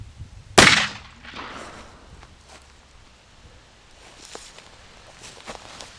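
A single loud shotgun blast goes off at a poster board outdoors, a sharp crack that trails into a brief echo, followed by quiet rustling and soft footsteps.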